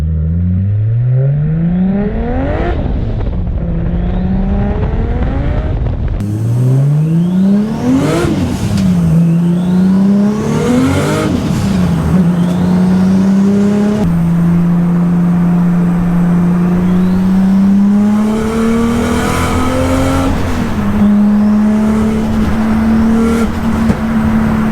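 A big-turbo 2022 Nissan Skyline R33 accelerating on the street, its engine note climbing through several rising pulls and gear changes, loud and close from inside the car with no talking.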